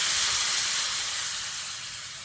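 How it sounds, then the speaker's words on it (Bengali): Boiling hot water poured into a potato and soybean curry in a hot pan, a loud close hissing burst of steam that slowly fades. "এবার আমি এর মধ্যে ফুটন্ত গরম জল দিয়ে দিচ্ছি 1 কাপ মতো।"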